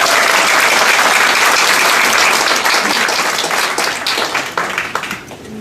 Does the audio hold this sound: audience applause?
yes